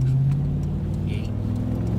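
A supercharged vehicle engine runs steadily as the vehicle moves under its own power, with a low, constant hum and a brief higher whine, heard close up.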